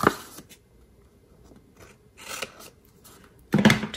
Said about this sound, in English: just take your scissors and cut that off